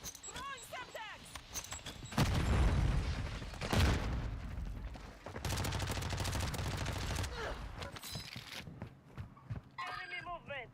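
A Semtex sticky grenade is thrown and detonates during a Warzone match, giving loud explosive bursts followed by sustained gunfire-like rumbling, with a voice speaking over part of the noise.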